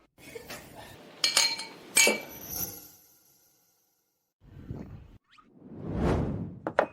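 Glasses clink together in a toast at a reunion gathering: a few bright, ringing chinks close together, followed by whooshing swishes and a quiet pause.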